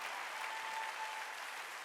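A congregation at a Sunday church worship service claps together in a steady, dense wash of applause lasting a couple of seconds, even in level and heard from a room distance.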